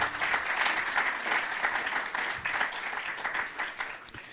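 Steady audience applause at a French round-table event, dense clapping from a mid-sized crowd sustained evenly throughout with no one speaking over it.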